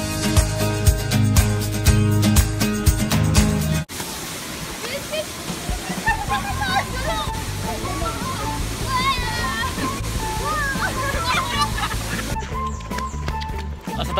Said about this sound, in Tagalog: this is the second level of Mantayupan Falls and it's said to be the tallest falls in